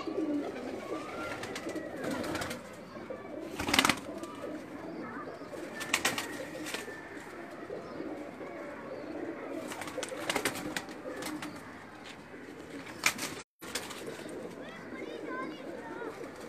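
Breeder pigeons coo and stir close by, their soft calls and occasional wing flutters mixed with people talking and some scattered background noise.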